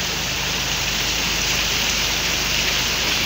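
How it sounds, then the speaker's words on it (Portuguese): Heavy rain pours down in a steady, dense hiss that fills the space close by, unbroken and loud throughout, with no voices. "Gente, tá chovendo muito."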